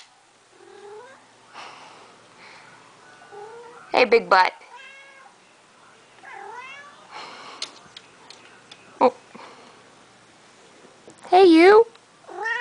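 A cat at a window meows several times, soft mews spread out with two louder, longer meows, while a person talks to it in between.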